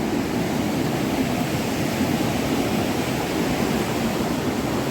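A huge river of water roars steadily through a weir, its rushing sound a loud, dense, unbroken wash that carries on for the whole stretch with no pauses.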